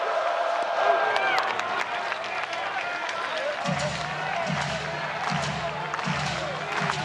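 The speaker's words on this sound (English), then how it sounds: "Here comes the crowd again." Stadium crowd cheering and roaring at the Oregon vs. Oregon State NCAA baseball regional final, a sellout standing-room-only crowd, with rhythmic stomping or clapping swelling in the second half and voices throughout.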